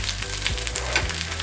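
Bacon and sausage frying together in a pan make a steady, close sizzle with a low hum underneath and a few soft scrapes, with no talking.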